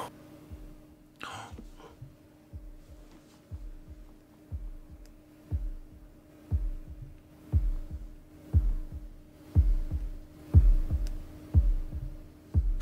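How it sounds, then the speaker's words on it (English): A slow, deep heartbeat thumps steadily at the opening of Pink Floyd's Dark Side of the Moon, growing gradually louder over a low hum, with a faint cough early on. "It's a heartbeat."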